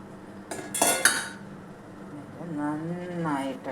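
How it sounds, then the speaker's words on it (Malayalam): A spoon stirs chia seeds in warm water in a glass, giving a few bright clinks against the glass early on, then a voice talking softly toward the end. "നന്നായിട്ട് ഇളക്കുക."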